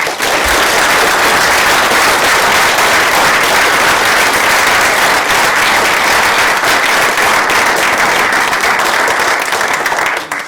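An audience at a university professorial lecture applauds to welcome the lecturer: steady, loud, dense clapping from a large crowd, sustained without a break for about ten seconds.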